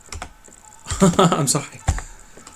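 Keys clack on a secondhand mechanical keyboard in a brisk, close burst of typing, followed by a single sharper keystroke, while a voice talks over part of it.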